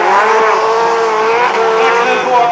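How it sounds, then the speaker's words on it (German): Race cars in an 80 PS heat at the Mega Race 2011 stock-car event in Grimmen, Mecklenburg-Vorpommern, roar together in a loud, continuous engine blare with tire squeal, while an announcer talks over the noise. "Hoffnungslauf bis 80 Wettkampf PS beim Mega Race 2011"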